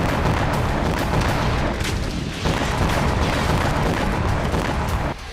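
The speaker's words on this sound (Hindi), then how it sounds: "एक तरफ यूक्रेन के आसमान में मिसाइलों की आवाज गूंज रही थी" Missile strikes and air defence fire over Ukraine near the Kursk border area, a dense, loud, continuous roar of booming blasts and rumbling with no clear gaps, heard alone without talk.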